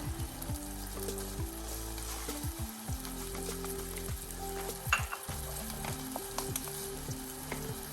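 Sauce for agave jalapeño lime vegan wings boils hard in a hot pan, giving a steady, close bubbling sizzle over a low tonal hum, with a brief louder pop around the middle.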